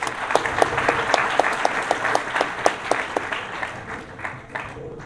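A crowd at an indoor soccer event claps steadily for several seconds, a moderate round of applause that gradually thins out toward the end.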